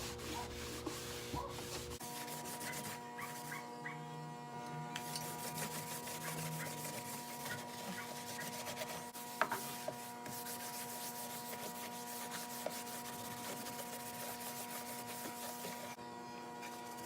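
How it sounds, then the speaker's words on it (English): Dark walnut Danish oil rubbed generously onto a wooden tabletop with a cloth, a steady soft rubbing and swishing close by, over a constant low mains hum with no talk. "this is just Danish oil, dark walnut. I apply it generously."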